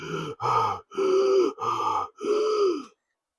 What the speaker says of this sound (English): He was panting hard, his shoulders heaving.